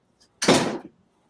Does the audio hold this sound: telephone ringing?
no